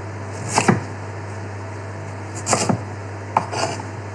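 A knife cuts food on a chopping board for a cottage pie, giving three separate slicing thuds spaced a couple of seconds apart over a steady background hum.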